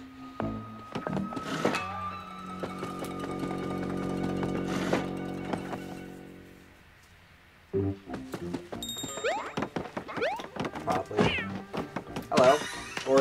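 Origami cat in the game Paper Mario: The Origami King gives short meows among game music and effects, moderately loud, with a sustained hum in the first half.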